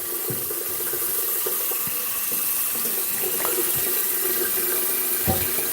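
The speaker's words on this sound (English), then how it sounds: "So I want some water in the kettle." Tap water runs steadily into a kettle at home for broth, a continuous close splashing and gurgling with no talk.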